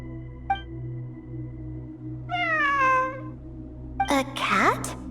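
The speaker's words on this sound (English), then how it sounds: "I'm not hearing things. It really is a cat." A cat meows in the video game Genshin Impact: a short chirp, then a long clear meow, followed by a sharper, rougher meow over a steady low ambient drone.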